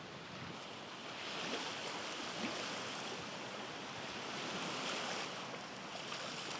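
Surf washes steadily onto a Louisiana beach scattered with small shells, a continuous broadband hiss of breaking water with gentle swells in level and some wind noise, no voices.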